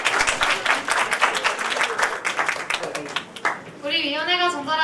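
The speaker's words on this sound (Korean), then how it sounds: "네, 큰 박수 부탁드립니다." Audience at a Korean children and youth village committee activity-sharing ceremony applauding, dense hand clapping for a few seconds, then fading as a voice begins speaking over the thinning claps.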